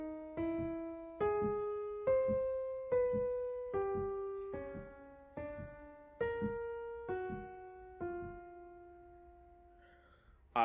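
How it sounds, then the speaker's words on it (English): Prime form of the twelve-tone row, opening with a tritone: about a dozen clear pitched notes played one after another, each struck and left to ring and decay, soft and alone. "This is the first sound we hear is the prime form of the row"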